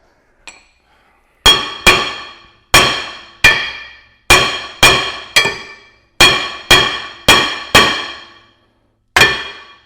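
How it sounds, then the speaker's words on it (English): A hammer strikes the back of a stuck rear brake rotor on an Acura TL about a dozen times in uneven succession, each loud clang ringing out briefly before the next blow. "I have a regular hammer here. I'm just gonna hit the back of it and hopefully it can come off."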